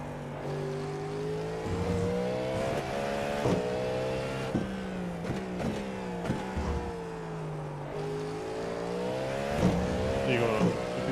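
A Porsche race car in a Le Mans racing video game, its engine droning with rising and falling revs and gear shifts, alongside other cars, under steady loud play with a voice talking over it.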